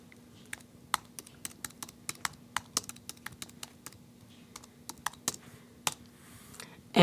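A website address typed on a computer keyboard at a desk, crisp close key clicks in quick irregular bursts with short pauses, ending on a louder final press as if hitting enter.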